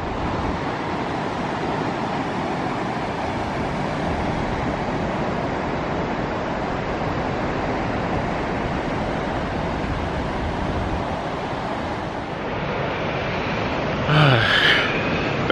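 Ocean surf rolls in steadily at a seaside campsite, a loud continuous broadband wash. A brief voice comes in near the end.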